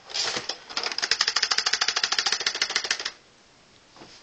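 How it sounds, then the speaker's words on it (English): A Double Eagle MP-40 magazine rattles in a rapid, even clatter of loud close-up clicks for about two and a half seconds, then stops abruptly into near silence. "Mag rattles quite a bit."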